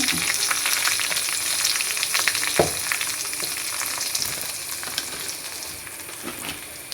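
Onion and chili frying in a pan, a steady close sizzle with a few sharp crackles and pops throughout, no talking.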